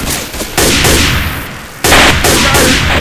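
Bursts of close, loud gunfire in the zombie shooter Left 4 Dead 2, rapid crackling volleys in two main clusters separated by a brief lull, harsh and dense with no talk over them.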